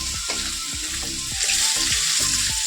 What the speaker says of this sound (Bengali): মাছগুলো আমার ভেজে নেওয়া কমপ্লিটও হয়ে গেল